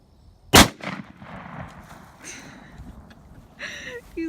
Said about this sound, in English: Let's work that bottom one with the rifle a time or two more